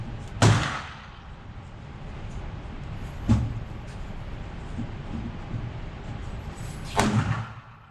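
Three sharp pistol shots from a Palmetto State Dagger Compact firing MagTech rounds at an outdoor range, spaced a few seconds apart, each a loud crack with a short echoing tail.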